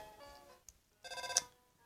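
A phone rings in the video game Undertale with two short electronic chimes, a brief tone followed by a longer bright trill, quiet and clean with no talk.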